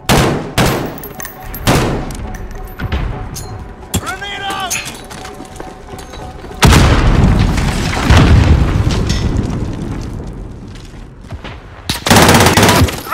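Gunfire and a grenade blast in a Call of Duty Modern Warfare team deathmatch: loud close bursts of shots, sharp booms and a heavy explosion midway, with a rumbling tail and more blasts near the end, under brief voice callouts.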